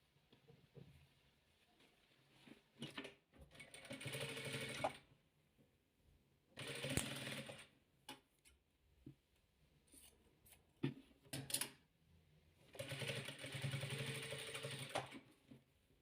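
A sewing machine stitching patchwork fabric strips runs in several bursts of steady mechanical whirring, separated by quiet pauses with small clicks and handling, close and moderately loud.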